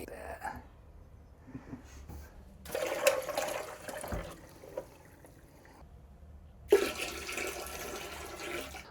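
Water from a tap gushes in two loud bursts into the dirty water tank of a Shark CarpetXpert carpet cleaner being rinsed out, with quieter gaps and a voice talking between.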